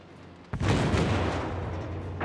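A heavy warship main-battery salvo fires in World of Warships, one loud booming blast that rolls out into a long, fading rumble, close and without speech.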